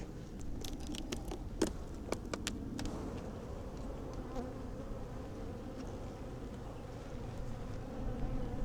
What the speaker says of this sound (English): The bees are getting through.